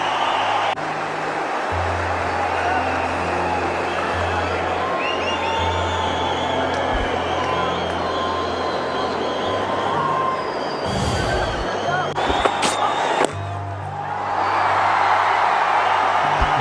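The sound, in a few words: cricket stadium crowd cheering after a no ball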